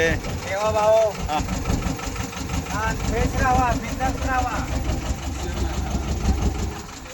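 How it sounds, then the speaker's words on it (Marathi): A steady low boat engine drone runs throughout, with someone talking over it and a brief reply from another voice. "तर अशा प्रकारे जे आहे इंजिन इकडे मागे आणि या साईडला असा प्रवास आमचा आता सध्या चालू झालेला आहे"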